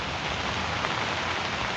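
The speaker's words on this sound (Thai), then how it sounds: "พี่น้องฝนตกครับฝนตกหนาว" Steady rain falls heavily, a dense even hiss of drops hitting surfaces all around.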